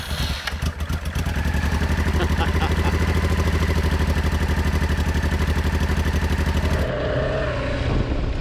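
A Honda XRV750 twin-carburettor motorcycle cranks and fires on choke from cold, then settles into a loud, steady, close-up idle with a rapid even pulse before the sound cuts away.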